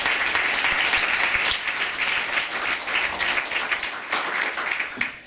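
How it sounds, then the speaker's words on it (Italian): Warm applause at a Rotary Club scholarship ceremony honoring Mr. Francisco, continuous crisp clapping from a gathered audience, steady across the whole stretch and fading at the close. "Un applauso per il signor Francisco"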